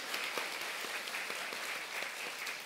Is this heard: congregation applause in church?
yes